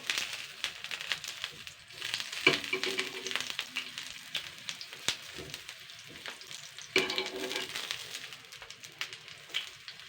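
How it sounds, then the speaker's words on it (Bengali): Eggplant slices fry in hot oil in a pan and are turned now and then. A steady, close sizzle runs throughout, with louder bursts of crackle and hiss around the turns. "জাস্ট বেগুনগুলো কিন্তু আমি একটুখানি উল্টে পাল্টে একটু ভেজে নেব"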